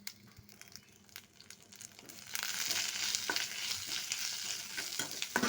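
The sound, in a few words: drumstick leaves sizzling while being stir-fried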